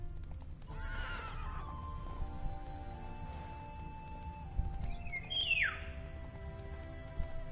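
Roach the horse in The Witcher 3 whinnies sharply near the start and again later, with a galloping clip-clop rhythm underneath and sparse game music in the background.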